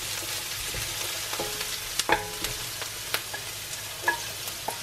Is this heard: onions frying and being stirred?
yes